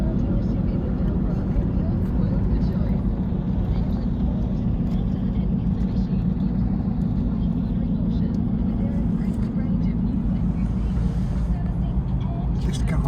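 A helicopter hovers close beside a road in Broome, Western Australia, its steady, loud rotor and engine roar continuous throughout, with faint voices beneath it.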